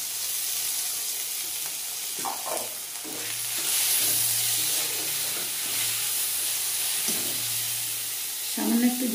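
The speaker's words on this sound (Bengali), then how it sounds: "মশলাটাকে ভালো করে কষিয়ে নেব।" Spices, tomato and green chili sizzle and fry in a pan, a steady hiss with occasional stirring scrapes, fairly quiet and close.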